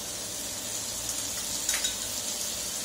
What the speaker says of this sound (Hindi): इसको मीडियम आंच पे फ्राई करेंगे।